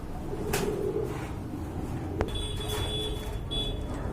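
Giribaz pigeons, a Bagha Giribaz pair among them, coo softly at a pigeon sale, faint low coos against steady background noise, with a sharp click and a thin electronic tone near the end.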